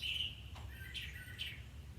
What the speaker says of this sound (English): I went outside because I wanted you to be able to hear outside birds.